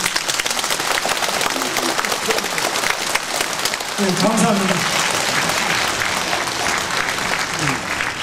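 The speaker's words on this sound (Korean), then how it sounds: "여러분들 박수 한번 크게 보내주십시오." An audience at a special guest lecture gives a big round of applause, a loud, continuous crowd clapping throughout, while someone briefly speaks over it partway through.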